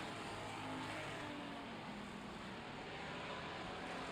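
Street stock race cars circle a track in a heat race, a steady, distant roar of engines blending into a continuous broadband drone without distinct passes or talk.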